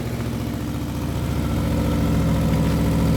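A vehicle engine runs steadily close by as it drives, a continuous low rumbling drone with a slight rise in level, no voices.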